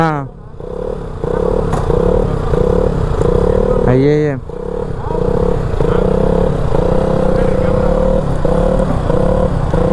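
A motorcycle engine revs up and down close by on a road trip, a steady throbbing drone with a sharp throttle blip midway, while a voice speaks briefly over it.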